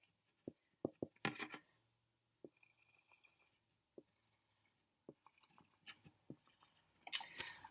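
Pen or pencil marks scratched by hand while writing treble clef notes on paper: short, quiet scribbles and taps spaced irregularly, with a louder scratching burst near the end, close and alone.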